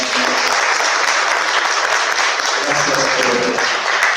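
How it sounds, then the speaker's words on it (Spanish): An audience at a talk welcomes Rosana Navarro with sustained, loud, even applause, dense clapping continuing throughout with faint murmurs beneath. "yo les pido que le recibamos con un aplauso a Rosana"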